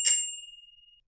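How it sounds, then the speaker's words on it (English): A single bright ding from the bell on an Escape Outlander Plus electric bike, struck once up close, then ringing out in a clear pulsing decay that fades to silence within a second. "Got a bell."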